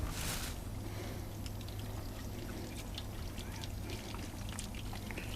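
Warm water pours steadily onto a rusty car battery tray during cleaning, making a continuous hiss and splash with faint trickling detail and no voices.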